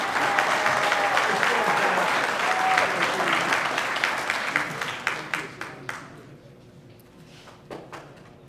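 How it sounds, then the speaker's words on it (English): Audience applause at a California Wrestling Hall of Fame lifetime service awards ceremony, filling a hall loudly with dense clapping that thins out and fades into scattered last claps, with some voices beneath. "Once again, let's give Mr. Paul Clemente one more round of applause."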